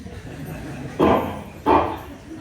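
Two loud, close dog barks about half a second apart, rising out of a quiet background.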